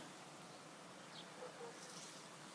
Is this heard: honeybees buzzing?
yes